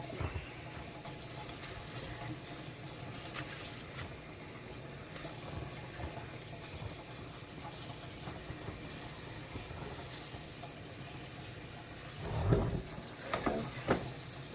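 Cabbage being rinsed under a running tap, a steady close splashing stream of water that flows without pause, with a couple of louder splashes near the end.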